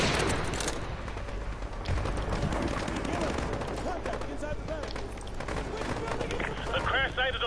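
Dense, continuous gunfire and explosions from the Call of Duty Modern Warfare 2 campaign, loud and sustained with rapid automatic bursts layered over a constant battle din.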